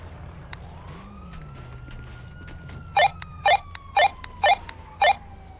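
Police siren in the FiveM game, a rising wail that sweeps slowly upward over a low steady rumble, followed by five evenly spaced sharp electronic bursts toward the end.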